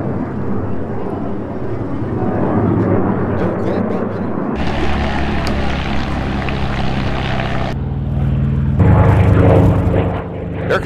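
A P-51 Mustang at an air show performs a slow roll overhead, its propeller engine a steady, loud drone that swells and shifts in tone as the aircraft rolls, with crowd and wind noise around it.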